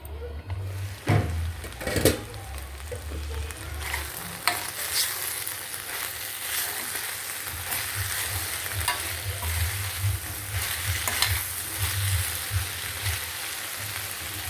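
Broad beans and tomato cook slowly under a plate lid on low heat, making a soft, continuous sizzle and simmer with occasional knocks and clatters of the pan and utensils.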